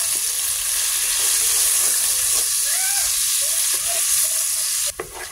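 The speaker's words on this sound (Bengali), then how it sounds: "মাংস ভাজার তেলেই পেঁয়াজটা আমি ভেজে নেব।" Onion frying in oil left over from frying chicken, a steady loud sizzle and hiss throughout with a few stirring scrapes, no talk.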